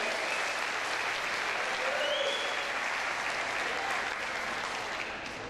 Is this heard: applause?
yes